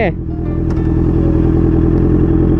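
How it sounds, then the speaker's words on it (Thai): A Honda CBR650R motorcycle engine runs close by with a loud, steady, throbbing rumble after a brief voice at the very start. "เห็นไหมเครื่องมันจะกระตุกนะครับ เพราะเราไม่ได้กำคัดนะครับ"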